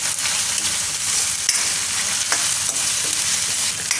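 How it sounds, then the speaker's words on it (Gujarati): Peas and carrots frying in hot oil for a winter-style Maggi noodle dish, a loud continuous close sizzle broken by a few sharp spatula scrapes and clicks, no voices. "તો થોડીક વાર આપણે પકાવી લઈશું વટાણા અને ગાજર."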